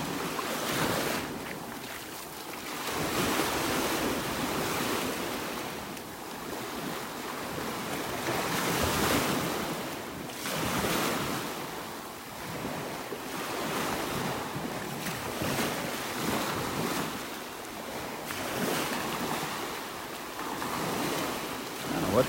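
Surf rolls onto a beach in North Naples, Florida, a continuous wash of breaking waves rising and falling, with gusting wind buffeting the microphone throughout.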